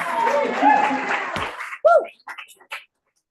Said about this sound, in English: we should just clap for Hollay